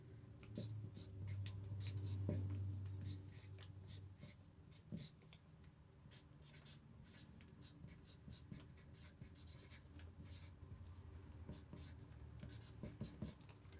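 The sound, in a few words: writing a secret note on paper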